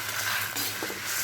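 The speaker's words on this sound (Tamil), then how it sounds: "நல்ல ஒரு 5 நிமிஷம் வறுத்து கொடுக்கலாம்" Dried chillies and spices dry roasting in a pan for rasam powder: a steady, dense hiss and rustle of stirring, close and constant, with no talk.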